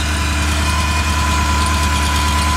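A 30-year-old motor runs steadily up close, a loud continuous mechanical hum with a faint knocking texture and no talking.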